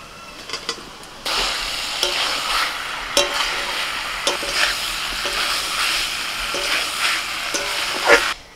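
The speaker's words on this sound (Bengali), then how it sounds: "মশলাটা কষিয়ে নিয়ে ফুলকপি আর আলু ভাজাটা দিয়ে দিচ্ছি।" Cauliflower and fried potatoes stirred into a poppy-seed spice paste in a hot pan, sizzling steadily with repeated scraping and clanking stirs of a spatula against the pan, close and fairly loud.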